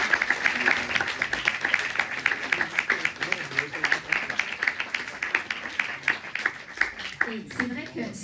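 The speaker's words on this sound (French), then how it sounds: "vous avez le droit de l'applaudir" Dense applause from a crowd fills the whole stretch, a steady wash of many hands clapping at once, loud and continuous.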